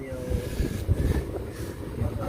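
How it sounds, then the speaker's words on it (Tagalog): Steady gusty wind rumbling against the microphone, low and continuous with slight surges, outdoors near open water. "Mahangin eh. Malamig."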